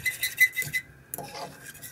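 A metal fork clinks and scrapes against a pot in quick, uneven strokes, stirring a boiling gelatin mixture, close and moderately loud, with a brief pause midway.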